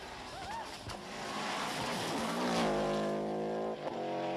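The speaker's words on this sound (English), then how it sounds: "blast their Chorus Subaru legacy through the Tipperary lanes" A Subaru Legacy rally car races through narrow Tipperary country lanes at a 1995 rally, its engine revving and climbing in pitch as it approaches and grows louder, with faint voices early on.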